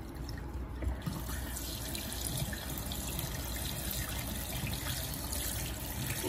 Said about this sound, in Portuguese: Abre e, ó, deixa a água corrente no material.